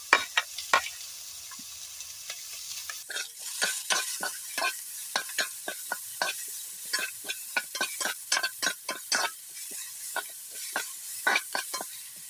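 Tomato and bird's eye chili fry in a pan for a snakehead fish curry. A soft hiss runs under quick, rhythmic spatula scrapes and stirs that repeat close by for the whole stretch, with no talking.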